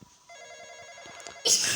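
A telephone rings inside a Roblox game, its electronic tones steady and bright, ending abruptly under a loud burst of noise near the end.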